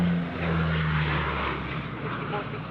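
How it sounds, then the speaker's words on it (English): An airliner departing Sydney Airport on the Campy departure roars steadily into the distance, a broad engine rumble slowly softening, with a person talking over it at the start. "I know I can track an aircraft all the way out on the Campy departure"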